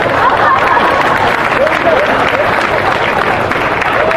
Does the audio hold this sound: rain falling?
no